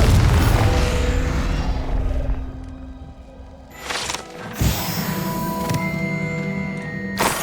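In Hogwarts Legacy, the Confringo blasting spell goes off with a heavy boom. A second burst follows, over steady game noise and tones, with no one speaking.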